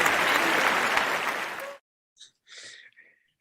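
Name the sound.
added applause track sound effect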